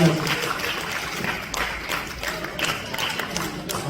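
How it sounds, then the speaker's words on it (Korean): Audience applause at a poetry recital during a national writers' gathering in Jeonju, a steady wash of many hands clapping at moderate distance with faint voices mixed in. "큰 박수 부탁드리겠습니다."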